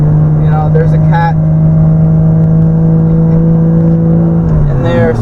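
A Lexus SC300 with a Borg Warner S366 turbo and a straight-pipe exhaust with no muffler holds a loud, steady drone before the revs drop near the end, with brief voices over it.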